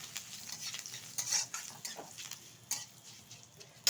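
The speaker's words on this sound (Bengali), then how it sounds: "ভালোভাবে একটু নেড়ে চেড়ে নেব।" Asafoetida, fenugreek and curry leaves stirred in hot oil, a soft sizzle under scattered light scrapes and taps of a spoon against the pan, quiet and close, no speech.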